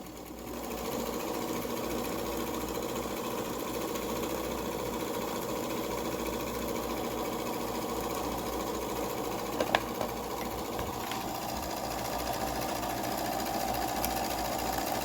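A sewing machine runs a straight line of stitching with a short back stitch at the start, its steady mechanical whir and chatter continuing close and even with no pauses.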